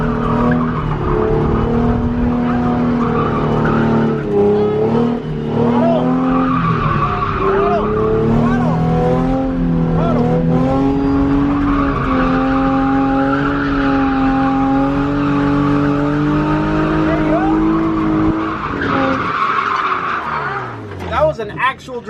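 Nissan 240 drifting, its engine revving hard in rising and falling waves under long continuous tire squeal, loud and close throughout before cutting out near the end.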